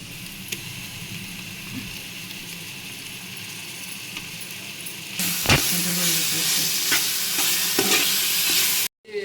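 Garlic paste and fresh coriander go into a hot pan and sizzle steadily, with a spoon scraping and stirring; the frying hiss jumps louder midway as more goes in, with a few sharp clinks, and no one speaks.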